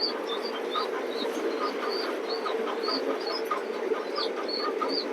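Racing pigeons in a loft coo repeatedly, with soft overlapping calls from several birds over a steady background hum throughout.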